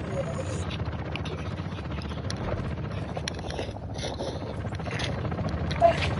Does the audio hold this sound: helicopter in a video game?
yes